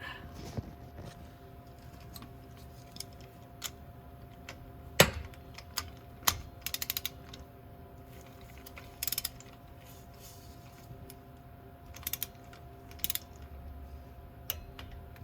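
A torque wrench tightens a spark plug on a 2019 Yamaha Wolverine, giving sparse, sharp mechanical clicks and ratcheting ticks scattered over a quiet background, close up with no talk.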